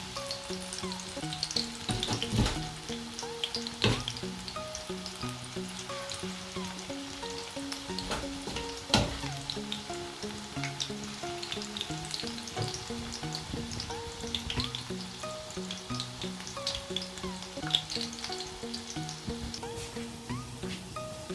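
Mustard-green pakoras fry in hot oil with a dense, steady sizzle and crackle close by, broken by occasional louder pops and stirring clatter.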